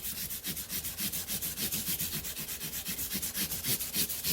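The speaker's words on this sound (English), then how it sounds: "I want to take sandpaper and begin the polishing of these frets" Sandpaper polishing the frets of a vintage Alvarez 12-string guitar: quick, even back-and-forth rubbing strokes, about six per second, steady and close with a bright scratchy hiss and no talk.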